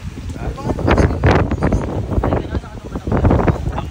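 Strong gusts of wind from Typhoon Uwan buffet the microphone in rough, roaring bursts, with a voice speaking beneath the noise.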